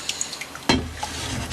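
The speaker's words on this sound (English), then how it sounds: "I'm just going to let a little bit of this water out." Water pouring from a pan into a sink while making homemade yogurt, a sudden splash that settles into a steady trickle and drips, close by with no talking.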